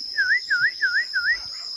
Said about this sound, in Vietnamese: Tiếng khú nó cũng đang hót.